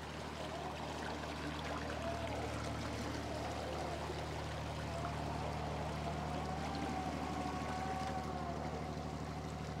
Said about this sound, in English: you hear the noise of an engine